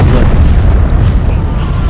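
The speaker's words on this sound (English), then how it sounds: "Demi cannons are firing." Heavy, rumbling demi-cannon blasts roll continuously through the clip in an Empire mod, loud and booming with a dense low-end roar, layered like a sustained barrage.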